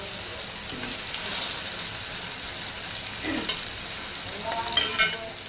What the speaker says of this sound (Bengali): তা এখন আমি এক এক করে মাংসগুলো দিয়ে দিই